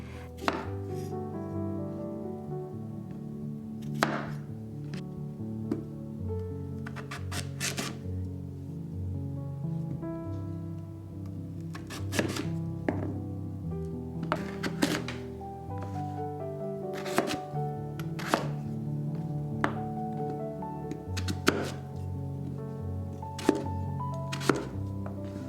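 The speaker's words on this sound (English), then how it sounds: "Cut sweet potatoes into the bigger chunks than any other vegetable since it breaks apart" A knife chops sweet potatoes into big chunks on a cutting board, giving steady, close, crisp thunks in a regular rhythm for the whole stretch, with no one talking.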